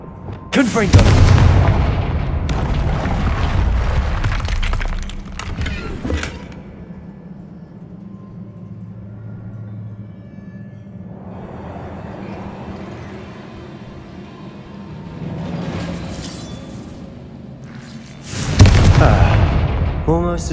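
Confringo blasting-spell explosions in the video game Hogwarts Legacy, with loud, booming bursts near the start and again at the end, a quieter rumbling stretch between them, and a voice briefly heard.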